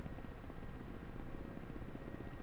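Ka-50 Black Shark helicopter in DCS slowing into auto hover: a steady, faint rotor and turbine drone with a soft rhythmic low-end thrum, continuous and unchanging, with no voices.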